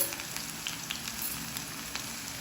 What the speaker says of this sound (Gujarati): તેલ આવ્યા પછી અંદર લસણ એડ કર્યું છે